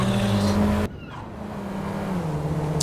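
Race cars in a Panto Series race roar past loudly during an overtake, an engine note that cuts off abruptly and gives way to a lower, steadier drone from another car.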